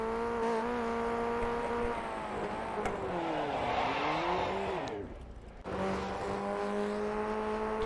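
Formula open-wheel race car in the iRacing sim game spinning out, a loud engine whine that wavers and dips as the car slides, cuts out briefly, then picks back up.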